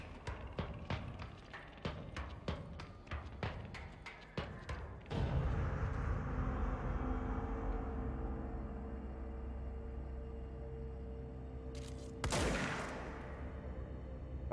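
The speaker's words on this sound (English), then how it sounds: "The gunfire is very muffled." A rapid burst of muffled gunshots from the video game Control, dull and distant, gives way to a steady low rumbling roar, with one brief sharp burst near the end.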